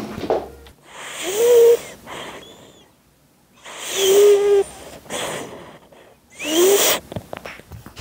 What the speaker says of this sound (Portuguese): Ela é a única que ronca aqui em casa, dos gatinhos.